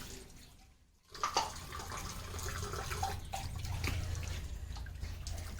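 Dishes are washed under running water, a steady close splash and trickle that starts abruptly after a brief lull, with occasional knocks of plates.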